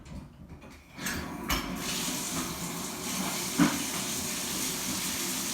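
A bathtub faucet runs in the background, a steady broadband rush of water that swells in after a quiet start and continues evenly, with a brief knock partway through.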